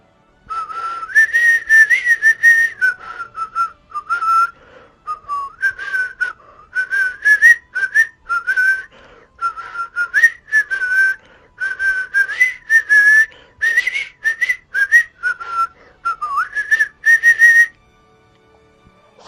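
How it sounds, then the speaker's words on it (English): A man whistles the tune Come, Lasses and Lads, a clear, close, solo melody of phrases with short breaths between them, running steadily to the end with no speech. "He was whistling, "Come, lasses and lads.""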